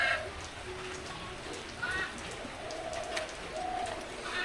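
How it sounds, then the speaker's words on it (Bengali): Steady rain patters over a flooded village yard on a rainy morning, with scattered bird calls and pigeon-like coos rising above the wash; a faint voice murmurs briefly. "তো দেখেন কি অবস্থা বৃষ্টির ভিতরে।"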